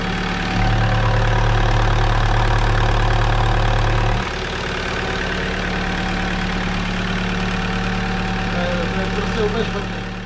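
A worn Alfa Romeo 156 engine idles with a steady low hum and faint ticking, louder in the first four seconds, then settling to a quieter idle, with a voice talking faintly alongside.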